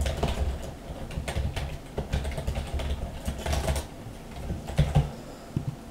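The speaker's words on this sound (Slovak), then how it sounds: "keď ste počuli teraz práve klávesnicu, tak prepáčte" Rapid keystrokes clatter on a computer keyboard in irregular bursts, close and moderately loud, with brief pauses between flurries of taps.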